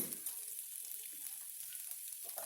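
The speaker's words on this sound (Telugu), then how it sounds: "ఇప్పుడు ఒక స్పూన్ అల్లం వెల్లుల్లి వేసి కలిపానండి" Ginger garlic paste frying in oil in a pan while being stirred, part of a gongura and potato fry; a steady soft sizzle with light scraping, close and fairly quiet, no talking.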